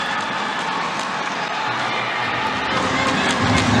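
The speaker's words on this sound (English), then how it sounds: "Crowd loving anything resembling a smash." A packed arena crowd at the Indonesia vs Malaysia men's team badminton final in Kuala Lumpur roars and cheers continuously, shrill shouts rising over the din and swelling toward the end.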